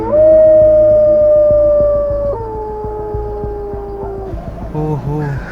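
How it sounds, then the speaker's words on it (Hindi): Dogs howl at night in a Hindi horror cartoon, a long, loud, wavering howl that drops in pitch, then a second howl, fading toward yips at the end. "दूर दूर से खाली कुत्ता, बिल्ली और मेंढक का आवाज़ आ रहा है"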